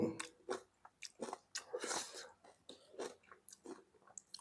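Crispy fried shrimp with sauce is chewed close up in a series of wet, crunchy bites, about a dozen uneven bursts separated by short pauses.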